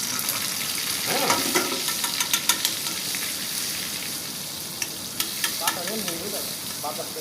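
Butter sizzling in hot oil in a pan, a constant close hiss with scattered sharp pops and a few stirring scrapes, no talk.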